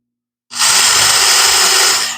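Power drill boring into white ash wood, a loud continuous whine starting abruptly after half a second and running steadily to the end, close and alone.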